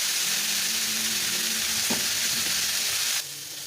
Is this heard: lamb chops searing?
yes